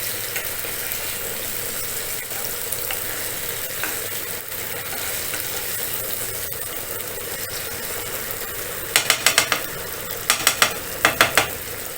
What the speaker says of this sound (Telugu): సో అందుకనే నాన్ స్టిక్కే ప్రిఫర్ చేయండి ఇది ఫ్రై చేసుకోవడానికి